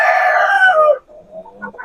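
A brooding hen sitting on eggs lets out a loud, close, drawn-out clucking call lasting about a second, followed by a few faint, softer clucks.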